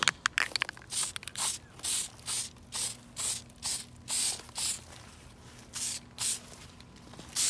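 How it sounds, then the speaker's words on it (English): Rust-Oleum Universal Clear Coat hisses from an aerosol spray can in a run of about a dozen short, evenly spaced bursts, close and moderately loud, while parts of a TTR125 motorcycle are coated. "I'll be using this Rust-Oleum Universal Clear Coat to give it a little bit of strength"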